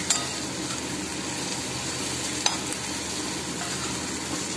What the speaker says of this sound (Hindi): देखिए इसको बढ़िया फ्राई होने दे रहे हैं।